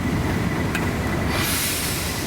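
A Class 37 diesel locomotive runs round its train at a heritage railway, giving a loud, steady rumble of wheels and engine with a brief squeal partway through.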